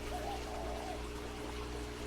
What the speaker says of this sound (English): So I take this and I just water him.